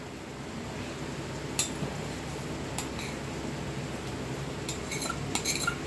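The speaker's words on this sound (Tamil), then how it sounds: "கோவா ஆட் பண்ணிவிட்டு இது நல்லா வந்து கிண்டி விடுங்க" Badam halwa with khoa being stirred in a pan, giving a steady soft scraping wash with a few sharp metallic utensil clinks against the pan.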